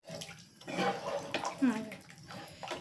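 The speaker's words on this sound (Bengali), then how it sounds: "একটু জল দিয়ে দেবো বেশি ঘন হয়ে গেছে একটু জল দিয়ে দেবো" A little water splashes and pours into a pot of fish-head dal as it cooks, a short, soft gush lasting a couple of seconds while someone talks over it.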